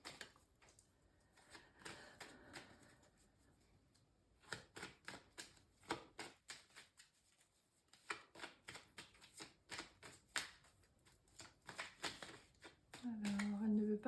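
Oracle cards shuffled by hand at a tarot reading, quick rapid riffles and flicks in bursts with brief pauses, close and soft, a voice speaking at moments.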